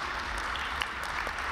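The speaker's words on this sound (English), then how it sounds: "I think we deserve to give the High Court of Kenya a clap." Quiet, distant clapping from an audience at a civil society talk in Kenya, a brief soft patter of hands in a large room.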